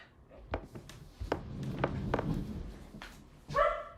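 A pet dog barks and yips excitedly in a home as a delivery arrives, in several sharp close barks followed by a whining whimper.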